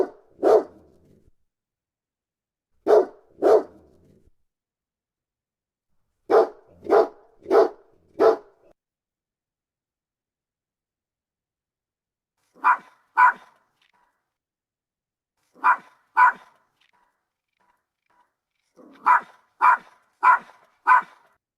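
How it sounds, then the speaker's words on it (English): Dog barks generated as synchronized Foley come in short bursts, single and in quick runs of three or four, clear and close with silent gaps between. "if you give the reference of a dog bark, then it will synchronize that type of sound to the video"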